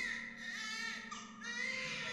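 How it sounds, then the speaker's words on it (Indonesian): Baby crying and sobbing as an audio drama sound effect, a continuous high wailing cry with warbling sobs across the whole stretch, close and fairly even in loudness, with no talk. "suara isak tangis bayi lebih dahulu memecahkan telingaku"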